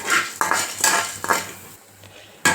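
A spoon scrapes and knocks against a pan while chana dal roasts for sundakkai thuvaiyal, several sharp clinking strokes in an irregular rhythm with quieter scraping and a faint hum between them, no voices.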